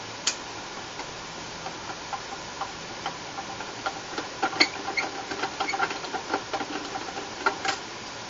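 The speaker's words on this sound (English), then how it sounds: "we're going to unscrew the screws" Screws being loosened from an Accurian Premier 15-1937 digital receiver/amplifier, with close, small irregular clicks, ticks and scrapes of the screwdriver and metal that grow busier toward the end, and no talking.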